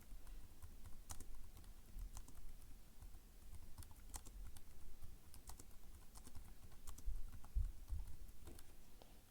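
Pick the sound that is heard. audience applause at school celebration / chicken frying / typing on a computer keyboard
typing on a computer keyboard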